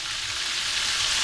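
Flour-coated fish fries in a pan, giving a loud, steady sizzling hiss with no talking.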